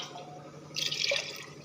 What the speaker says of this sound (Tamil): பாருங்கள், தண்ணி ஊற்றிக்கலாம்.